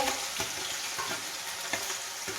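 Onion, tomato and potato fry for mixed pulao, a continuous bright sizzle broken by soft periodic scraping taps as the pan is stirred, with no one speaking.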